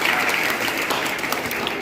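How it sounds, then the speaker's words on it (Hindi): Sustained audience applause at a quiz competition held for Gandhi Jayanti, steady dense clapping filling the whole stretch without pause, fairly close and loud. "पहले तो पूर्ण जी सर के लिए बहुत जोरदार तालियां बजाएं"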